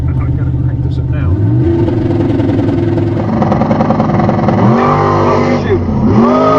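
A loud alcohol-fueled Pontiac Firebird drag race car roars and revs hard as it launches down a quarter-mile strip, the pitch climbing and dipping through gear shifts, with no one talking.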